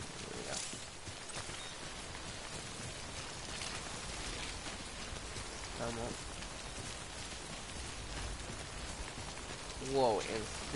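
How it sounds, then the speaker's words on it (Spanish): Steady broadband rain pours down in the video game Death Stranding, a dense continuous hiss throughout with a brief swelling burst near the end, no talk over it. "Wow, en serio, la lluvia me está despedazando la..."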